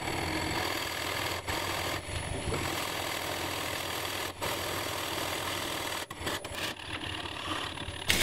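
A 2.5 inch Forstner bit bores deep into chestnut or walnut for a lamp, producing a continuous grinding motor whir with brief dips as the cut pauses, ending in a short burst.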